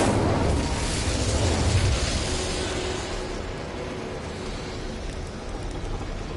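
The Incendio fire spell cast in Hogwarts Legacy: a loud, roaring blast of flame with crackling bursts that gradually dies down to a steady rumbling hiss.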